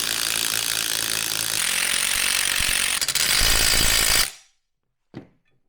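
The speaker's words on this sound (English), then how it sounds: "For now, we're just going to tighten these up with the impact driver" An impact driver runs loud and close for about four seconds while tightening brake caliper bolts on a zero offset brake assembly, then cuts off into silence, followed by a single short knock.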